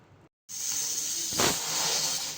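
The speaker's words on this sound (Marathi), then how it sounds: "मग पुढच्या दोन शिट्ट्या घेणार आहे" A loud, sustained steam hiss from a pressure cooker cooking raw mangoes, starting abruptly after a brief silence and swelling into a sharper whistle burst midway.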